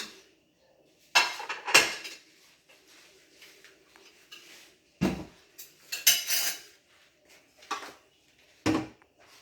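Dishes and cutlery soaking in water clink and clatter in a few sharp, scattered bursts, with quiet pauses in between, close by.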